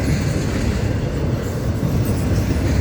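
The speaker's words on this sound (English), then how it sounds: "So this is the train that left Fort Lauderdale with all these Crowley containers." A long FEC freight train loaded with Crowley containers rolls past close by near a road crossing in St. Augustine, Florida, giving a loud, continuous rumble with rail clatter and no voices.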